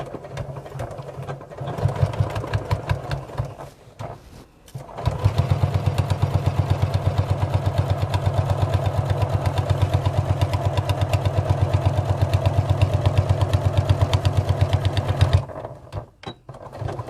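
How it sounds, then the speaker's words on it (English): Sewing machine stitching rows through a tote bag lining: a steady, loud, fast needle clatter running for about ten seconds after a few shorter starting bursts, then stopping, with no talk. "I'm just going to do 2 more rows of stitching on this side."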